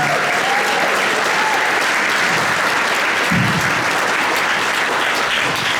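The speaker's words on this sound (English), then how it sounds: "round of applause for the fantastic Rick Halliwell" Loud, dense applause from a concert audience in a church hall at a youth jazz orchestra performance, a steady wash of many hands clapping close by for the full length without letting up.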